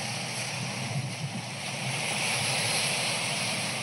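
Small waves wash onto a tiny sandy beach at Coral Bay in Paphos, Cyprus, a steady, fairly loud surf hiss with wind buffeting the microphone throughout.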